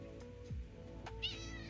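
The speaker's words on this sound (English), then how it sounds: "My cat's decided to come and join." A house cat meows once up close, a short rising-and-falling call over the steady hum of a room where a game is being played.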